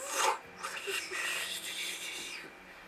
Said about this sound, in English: that was the sound of the fishing pole flying out.